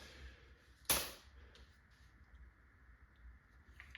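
A Valken M17 paintball marker with a drilled regulator fires one sharp, loud shot, and a fainter second pop follows later against a quiet hiss of air.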